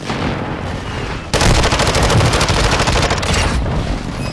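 An airstrike in Call of Duty Warzone on Ashika Island sets off a sudden, loud, sustained barrage of rapid blasts and gunfire-like cracks that hammer on for about three seconds after a quieter opening.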